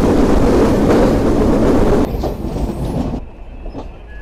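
Kapotaksha Express train pulling out of Mirpur railway station in Bangladesh, a loud steady rumble of wheels and carriages that drops sharply after about two seconds and fades into quieter rolling noise.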